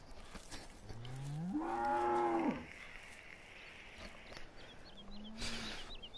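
A cow in a PS4 farming game lets out one long, rising moo, followed later by a shorter, fainter low call against a quiet background.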